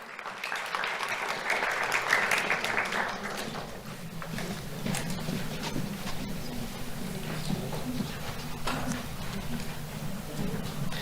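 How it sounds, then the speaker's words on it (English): An audience at a youth awards ceremony claps for an elementary school student, moderately distant, with brisk sustained applause and scattered sharp claps over a faint room hum. "Let's have a round of applause for Davinsley Gabriel."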